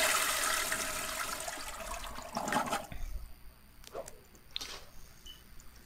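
Toilet flushing in The Sims 4 video game: a steady rushing of water for about three seconds that fades into quieter trickles and dribbles.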